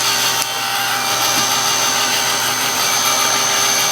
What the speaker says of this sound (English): So if you've got a dryer, just quickly dry it.